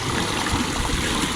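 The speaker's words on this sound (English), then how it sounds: "the drain plug's out, so this thing's just filling up with water" Water rushing into the hull of a Sea-Doo Spark Trixx with its drain plug out, a loud, continuous, steady wash of flowing water without speech.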